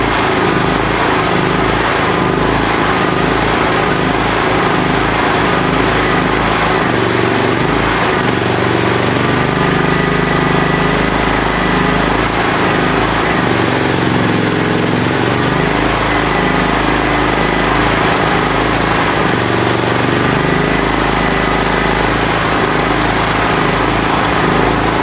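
A gas-fueled electric generator's engine runs continuously under a welding load, a steady loud drone with an uneven, slightly choked rhythm that surges and dips through the clip, with no voices.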